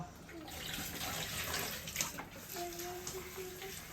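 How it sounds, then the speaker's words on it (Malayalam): Water runs and splashes close by as Kuthiraivali (barnyard millet) grains are swished and rinsed in a sink, quiet and continuous. "ഞാൻ ഈ കുതിരാട്ടരി കഴുകി എടുക്കട്ടെ കേട്ടോ"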